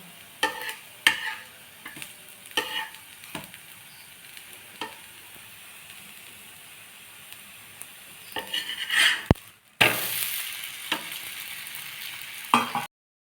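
Rava roti frying in a pan gives a soft steady sizzle, broken by scattered clicks and taps of a spatula, then a sharp scrape and a louder, brighter burst of sizzling as the roti is flipped, with a few more taps near the end.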